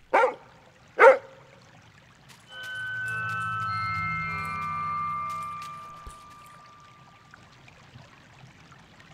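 Two sharp, loud barks from a dog in the puzzle game Lorelei and the Laser Eyes, followed after a pause by a sustained flowing, pouring-like tone and soft ambient sounds.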